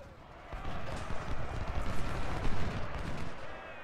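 Musket volleys and artillery fire in the Civil War strategy game Ultimate General: Civil War, a dense rolling crackle of gunfire with dull booms building after the first half second, loud and continuous with no clear voices.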